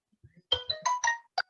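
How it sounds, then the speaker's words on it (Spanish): A mobile phone ringtone sounds during an online algebra class: a short, bright melodic burst of several rising notes, close and clear against near silence. "voy a poner en silencio el celular."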